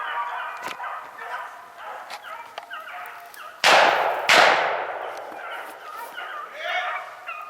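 A pack of hunting dogs bays and barks repeatedly at middle distance while running a rabbit, and two sudden loud sharp bursts break in partway through.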